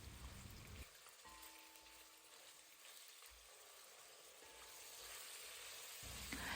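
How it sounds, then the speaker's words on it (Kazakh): Meat frying in oil in a cauldron over high heat, a continuous hissing sizzle with faint crackles, steady and close throughout with no talk. "жоғары отта қызып тұрған қазанымызға майды құямыз да, оның үстіне жаңа турап алған етіміздің барлығын салып, әдемілеп етіміз қызарғанша қуыратын боламыз"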